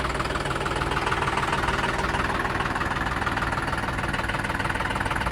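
A John Deere tractor engine idles steadily, a continuous low, even rumble with a mild knocking texture running unbroken and fairly loud throughout.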